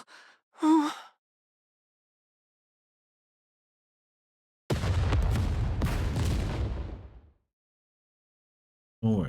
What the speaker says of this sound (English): Massive explosion echoes from deep within the pitch dark arc.